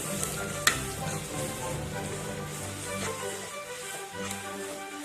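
Masala with pepper powder and salt sautéing in a pan for Kerala-style beef, a continuous soft sizzle with occasional scraping stirs and a brief clink near the start.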